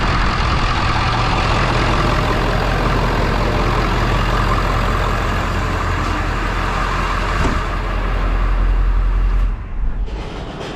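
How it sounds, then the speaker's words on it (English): A Ford F450 truck engine idles with a steady, loud, low rumble that holds constant throughout, then drops off near the end. "So now let's go in the truck and turn off the engine."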